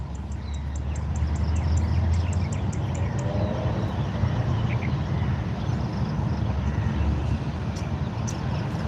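Birds sing outdoors in sunlight, a run of high repeated chirps early on and scattered calls later, over a steady low rumble of wind or distant traffic.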